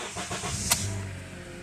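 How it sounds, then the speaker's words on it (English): A 2012 Honda Accord's engine is started over a steady background hum: a short click, then the engine catches and settles into a low, even idle. "Let me start the vehicle."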